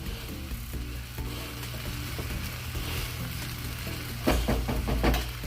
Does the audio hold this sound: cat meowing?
no